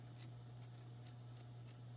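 Scissors snip paper for a handmade shaker card, a few faint, quick cuts spaced through about two seconds over a steady low electrical hum.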